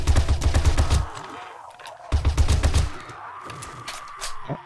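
Rapid bursts of automatic gunfire from the survival game 7 Days to Die come in two loud volleys separated by a short pause, followed by quieter mechanical clicks.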